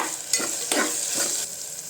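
A spoon stirs chole masala in a pan after salt and a pinch of turmeric go in, giving a few short scraping strokes over a faint sizzle.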